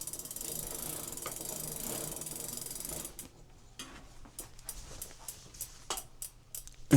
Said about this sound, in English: So you just spin the cranks backwards while holding the axle still.